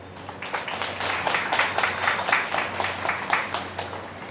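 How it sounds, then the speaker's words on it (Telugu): An audience claps for people who have meditated at length, a steady wash of applause from many hands, moderately loud and sustained throughout. "అంతసేపు ధ్యానం చేసే వాళ్ళందరికీ చప్పట్లు కొట్టండి"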